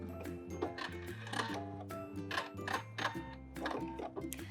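Sewing machine stitching along the edge of a welt pocket, a close mechanical rattle in short bursts with brief pauses, including a quick backstitch.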